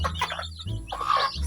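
A chicken clucks twice in quick bursts at close range, with no talking.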